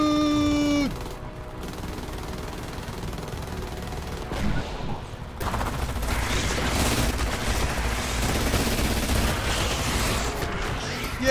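Gunfire and booms from the video game Silica, a sci-fi strategy shooter, with a mechanical whine at the start, then a lull and a heavy, continuous battle of shots and blasts.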